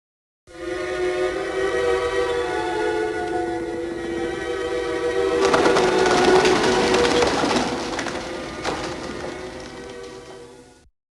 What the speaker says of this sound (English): When she opened another window, some pigeons flew in and startled her